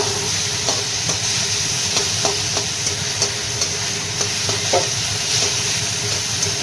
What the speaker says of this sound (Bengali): এইভাবেই ভাজা হবে মাছটা তেল আছে যা যা ওতেই মাছটা ভালো একটু ভাজা হয়ে গেলে